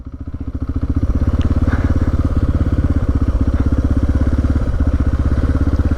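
A motorcycle pulls away through a garden on a slippery path, its engine a steady, loud, rapid mid-pitched thrum held close for the whole stretch, rising slightly as it gets going.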